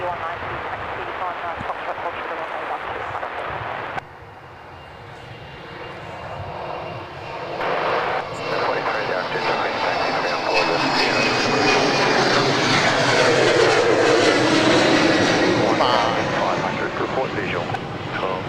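A Qantas airliner takes off at Adelaide Airport, its jet engines roaring loud and steady, then swelling into a broad, sustained rush as it rolls and climbs. Voices can be heard beneath the engine noise.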